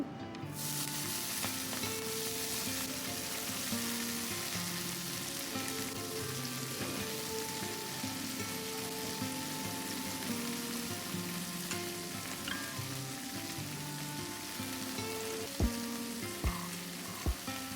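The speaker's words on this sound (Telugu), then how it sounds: "ఆయిల్ హీట్ అయ్యాక కట్ చేసుకున్న కొత్తిమీర వేసుకోవాలండి" Chopped coriander frying in a tablespoon of hot oil in a kadai, a loud, dense, continuous sizzle with crackling and a few sharp utensil taps near the end.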